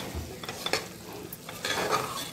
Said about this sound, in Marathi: आता आपण पनीर टाकत आहोत।